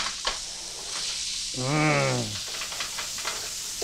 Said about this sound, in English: We're gonna cook these onions in all that good bacon grease.